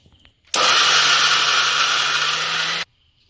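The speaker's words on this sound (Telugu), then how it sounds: "మిక్సీ జార్లు వేసుకొని మంచిగా మినపప్పు అయితే పేస్ట్ లాగా పట్టుకోవాలి" A mixer grinder grinds soaked urad dal into paste, a loud, steady motor whine that starts abruptly, runs for about two seconds and cuts off sharply, with no voices.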